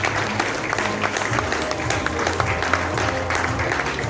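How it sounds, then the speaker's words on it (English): An audience at a Kiwanis club chartering and installation event applauds to welcome a guest speaker, dense steady clapping from a crowd that lasts throughout. "A big round of applause."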